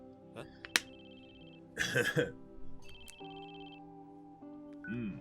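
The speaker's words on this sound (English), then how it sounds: "佐藤くんの携帯じゃない" A mobile phone rings with bright repeated electronic tones in an anime scene, the melody rising and falling at moderate volume while voices talk over it.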